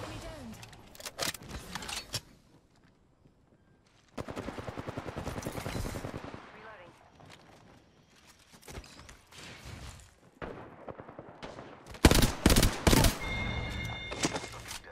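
Gunfire in a first-person shooter game comes in sharp bursts and single cracks with gaps between them, building to a dense loud volley near the end, while a player talks over parts of it.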